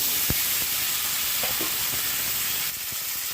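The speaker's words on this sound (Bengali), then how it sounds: "তো মাছটা ভেজে তুলে নিয়েছি মাছ ভাজার তেলে। এবার আমি ছেড়ে দিচ্ছি আলু।" Potatoes frying in oil left over from frying katla fish, a continuous bright sizzle and hiss with a few soft stirring knocks from the pan.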